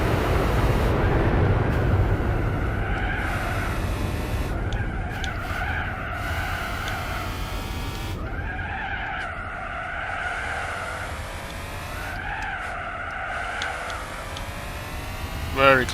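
Race car tires skid and squeal under hard braking in Gran Turismo 4, with engine tones sweeping up and down in repeated bursts while someone talks over the racing sounds throughout.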